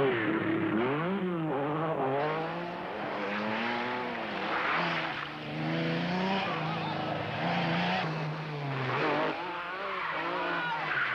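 Lancia Stratos rally car engine revving and wavering as it drives sideways through a rally stage, a continuous loud rising and falling engine note with shifting pitch throughout.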